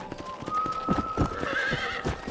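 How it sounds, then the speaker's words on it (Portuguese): A horse in the video game Red Dead Redemption whinnies loudly with a long, wavering call, while hooves clop in quick steps beneath it, close and clear. "Nossa, muito bonito esse cavalo."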